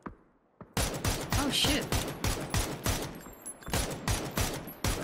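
Rapid gunfire bursts in the battle royale game PUBG, loud sustained volleys of automatic shots filling most of the stretch after a quiet start, with a player briefly exclaiming under the shooting.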